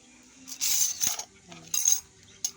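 Dishes being washed by hand: several close clinks and clatters of plates and cutlery in quick bursts, with faint sounds of handling between them and no clear talking.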